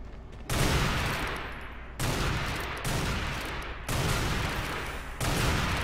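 Sniper fire in an Unreal Tournament 4 duel on the Deck16 map: loud, sharp shots spaced about a second apart, each trailing into a long, dense roar of reverberating noise.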